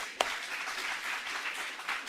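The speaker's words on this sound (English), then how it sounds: "Let's give all of our speakers another round of applause" Audience applause for the speakers at a one-day peaceful-solution event, a steady wash of clapping with one sharp louder clap near the start, moderately distant and continuous throughout.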